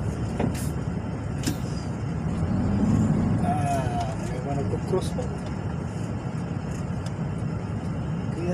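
Traffic on a congested road in General Trias, Cavite, with buses and cars idling and creeping past a truck cab, a steady engine rumble with a brief swell, under talk inside the cab.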